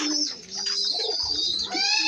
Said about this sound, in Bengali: এখানে দেখতে পাচ্ছেন কয়েকটা কবুতর আছে। এখানে কবুতরের বাসা আছে।